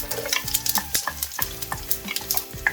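Curry leaves hit hot oil in a pot as the base for a Keralan fish curry, crackling and sizzling sharply up close with busy stirring noises and no talking.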